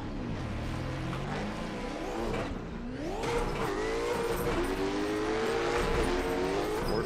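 Engines of a new Corvette and a Mustang roaring side by side in a tandem drift racing game at Irwindale, with rising and falling revs, gear shifts and a thin tire squeal, loud and continuous.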